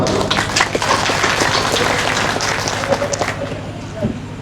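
Audience at a Matua Mission general council meeting giving applause, a steady wash of clapping that tapers slightly toward the end, with some voices mixed in.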